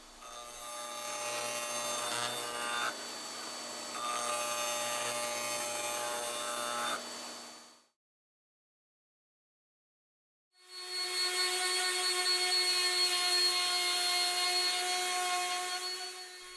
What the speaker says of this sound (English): My disc sander attachment makes quick work to sand the splines flush.